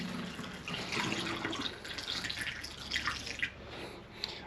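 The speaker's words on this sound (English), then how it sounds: "pour some of the sauce in here." Barbecue sauce poured from a larger container into a small plastic condiment bottle for a camper, a thin trickling, dripping liquid stream lasting several seconds, close and fairly quiet with no talking.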